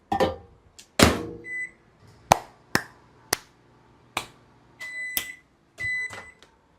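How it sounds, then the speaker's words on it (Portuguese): A microwave oven heats bread for 30 seconds: a series of crisp button clicks and beeps, a door shutting, and a low running hum between them, heard up close with no talking. "vou umedecer minha mão e vou botar um pouquinho só ao redor do pão e colocar 30 segundos no micro-ondas"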